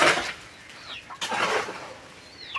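Chickens cluck and squawk in short, bright bursts, fairly close and moderately loud, with quiet gaps between calls and no talk.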